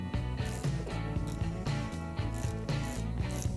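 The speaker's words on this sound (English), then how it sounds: "using your 13mm wrench, loosen the nut for the battery retainer" A 13mm wrench ratchets a battery retainer nut loose on a 2008-or-later Chevrolet Silverado or GMC Sierra, with a rapid, rhythmic metallic clicking in close, repeated bursts.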